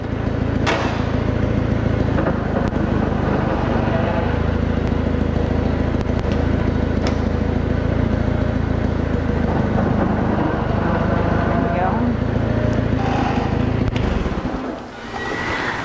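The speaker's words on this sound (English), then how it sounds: "Now I'm going to drive the tractor forward and back to check out the clutch job." A Farmall Cub tractor engine runs steadily and loudly, close by, while being driven forward and back after a clutch repair, with a few clicks and clunks, before cutting off near the end.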